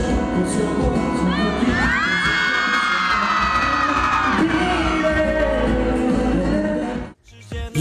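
Fans at a live talent show scream and cheer for a male star singer. It is a loud, sustained, high-pitched roar of many voices that continues for several seconds before cutting off abruptly.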